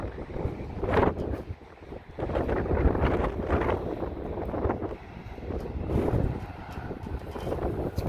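Strong wind gusting by the beach, buffeting the microphone in loud rumbling bursts that rise and fall over choppy water, with no one talking.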